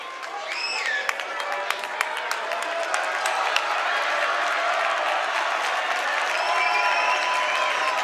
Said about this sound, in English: Both crowds excited and hopping.